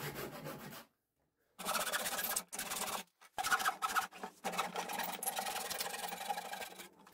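Rough scraping and rasping as excess glued wooden dowels are cut flush, several bursts of back-and-forth rubbing separated by short silent pauses, close and fairly quiet.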